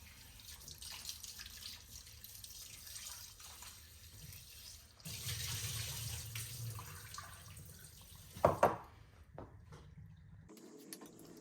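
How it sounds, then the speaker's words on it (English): Tap water runs into a sink while lamb shoulder chops get a final rinse. The stream is steady and splashing and grows louder midway, then there is a brief clatter and the flow cuts off. "I'm just giving it one more good rinse to make sure all the blood and vinegar and water is off"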